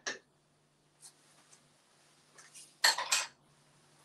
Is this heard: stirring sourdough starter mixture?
yes